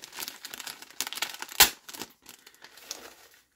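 Plastic foil wrapping from an Audio-Technica ATH-M20xBT wireless headphone set crinkles and rustles close up in uneven bursts, with one sharp louder crackle midway.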